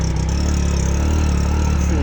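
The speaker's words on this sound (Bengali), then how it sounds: "গাড়িটা হচ্ছে আমাদের টিভিএস 100, টিভিএস মেট্রো, ছোটো গাড়ি, চলতেছে চলতাম।" A small TVS Metro 100 motorcycle engine runs steadily and close by on a sandy char island in the Jamuna river, a constant low putter with no gaps throughout.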